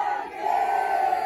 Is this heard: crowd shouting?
yes